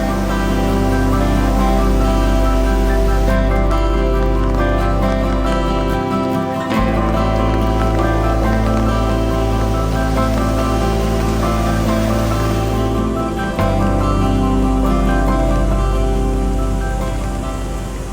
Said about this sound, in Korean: 특히 비가 오는 날엔 물소리도 훨씬 커지고 물살도 더 빠르게 흘러서